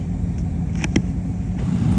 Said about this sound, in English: And then this truck rolls up.